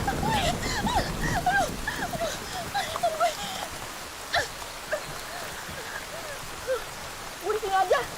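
Heavy rain falls steadily throughout, a dense wash of drops with voices talking over it intermittently.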